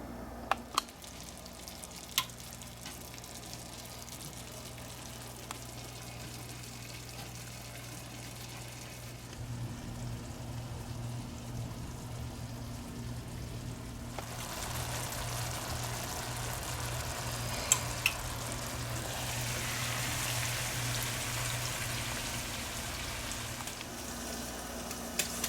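Deer heart and venison meat frying in a hot pan, a low continuous sizzle and hiss that swells louder midway, with occasional small clicks and a faint hum underneath.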